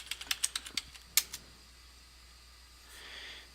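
Quick, crisp keystrokes on a computer keyboard as a password is entered: about a dozen close clicks in a fast burst, then quiet room tone with a faint breath at the end.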